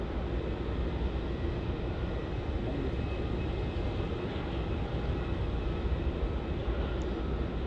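A Jetstar airliner bound for Hobart departs from Melbourne Airport, likely off runway 27. Its jet engines make a steady, broad, rumbling roar that holds for several seconds at moderate loudness, with no talk over it.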